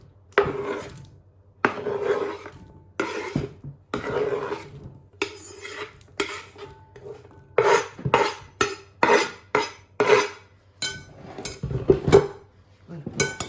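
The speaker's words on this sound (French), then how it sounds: "je vais les mettre dans mon saladier" Salted vegetables are scooped into a salad bowl, giving a run of clattering scrapes and knocks of utensil against bowl in quick uneven bursts, close and fairly clear, with quiet talk between.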